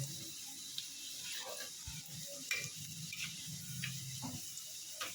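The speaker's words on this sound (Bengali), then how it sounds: "নুনটা দিয়ে পেঁয়াজটাকে একটু ভালো করে নাড়িয়ে নেবেন।" Onions with salt stirred in a frying pan give a low, steady sizzle, broken by scattered scrapes and clinks of the spatula against the pan, with faint running water in the background.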